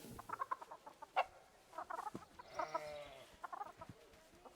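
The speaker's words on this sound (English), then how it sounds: "This one right here, we have the Sussex Chicken here." Sussex chicken from the Planet Zoo video game clucking softly and repeatedly in an irregular rhythm, faint and close, with no other sounds.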